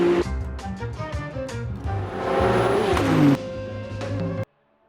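Porsche 992 GT3 R race car engine in Assetto Corsa, a loud continuous revving drone that climbs in pitch through repeated gear changes, then cuts off abruptly near the end with no talk.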